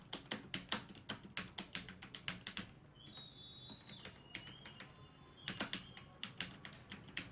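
Keys clatter on a computer keyboard as a university name is typed into an online exam application form, a quick run of close, crisp clicks, then a pause, then another short burst.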